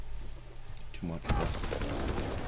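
Gunfire in the wartime shooter Call of Duty: WW2, a dense crackle of shots breaking out partway through a busy battle mix, with someone talking over it.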